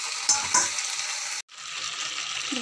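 Potatoes in poppy seed paste frying in a pan, a steady broadband sizzle with two brief clinks early on. The sound cuts out abruptly at mid-clip and then returns as a quieter hiss.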